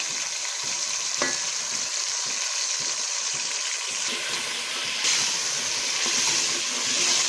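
Tomatoes frying in a pan for a green onion sabzi, a steady close hiss of sizzling oil with a few light stirring knocks, continuing alone without speech.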